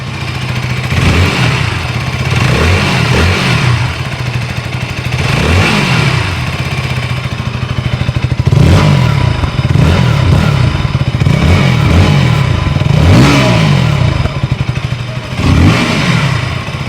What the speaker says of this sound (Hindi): बाइक इंजन से ज़्यादा साउंड कर रही है, एग्जॉस्ट से साउंड काफ़ी कम कर रही है।